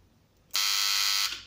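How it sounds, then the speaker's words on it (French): A motor control circuit's fault siren, tested with its test button: a loud, steady electronic alarm tone blares for under a second, starting abruptly and cutting off sharply. "on va tester la sirène, le défaut sonore"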